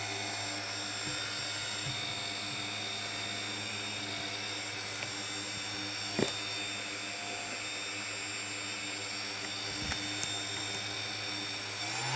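A brushless motor gives a steady, even whine with a faint electric hum throughout, with a couple of brief clicks along the way.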